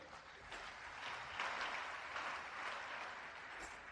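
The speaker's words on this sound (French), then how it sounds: "Applaudissez s'il vous plaît." A congregation at a funeral gathering in Kinshasa applauds together, a steady wash of many hands clapping at moderate level throughout, with no voices standing out.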